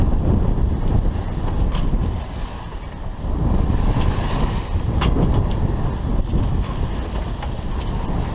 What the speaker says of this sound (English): Waves haven't though.